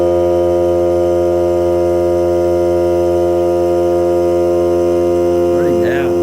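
A Hart cordless air compressor running during a break-in test, a loud steady motor hum with a constant droning pitch throughout, and a brief higher whine rising near the end.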